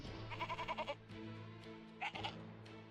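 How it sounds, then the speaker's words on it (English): Amid a tabletop fantasy game session, a goat bleats twice, a wavering series of quick pulses followed by a shorter second cry, faint over a steady background hum. "It made a, goat sound."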